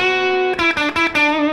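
A cranked guitar amp, driven hard with no pedals, rings out sustained distorted chords with its own reverb, broken by a few quick rhythmic chops before the tone rings on, loud and close with no talking.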